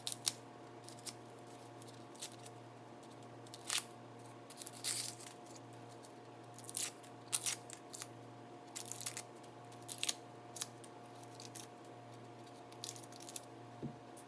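Two onions are peeled by hand on a cutting board, giving faint, scattered crackling and tearing of dry papery skins over a steady low background hum.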